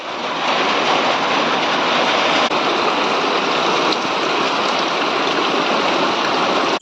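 Heavy rain pours at night in a steady, loud, dense rush of water that continues without a break throughout, with no voices.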